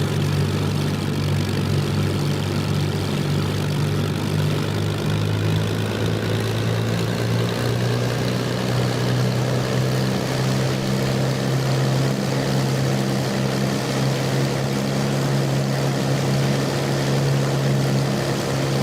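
A Spitfire Mk Ia engine held at 2,500 RPM with 6 1/4 boost in a flight simulator: a loud, steady propeller drone with a strong low hum that stays constant and uninterrupted throughout, with no talking.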